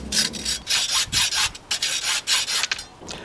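A windsurfing sail batten has its last few centimetres cut off in a quick run of rasping back-and-forth saw strokes, close and fairly loud, each stroke short and sharp, with no voices.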